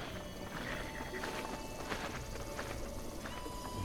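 Horse hooves in Breath of the Wild clop along steadily at a walking pace, moderately close, over a busy background of ambient noise.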